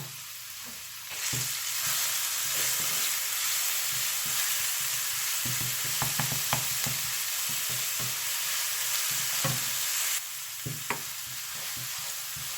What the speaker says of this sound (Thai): ก็เจียวไปจนกว่าจะเหลืองนะคะ